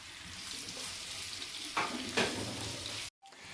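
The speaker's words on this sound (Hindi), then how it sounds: "अब इस ऑयल में हम प्याज जो कट किए हैं, टमाटर और सब्ज़ मिर्च, इनको अच्छे से ना फ्राई करेंगे।" Chopped onion, tomato and green chilli frying in oil in a pan, giving a steady close sizzle with a couple of louder stirring scrapes before the sound cuts out abruptly.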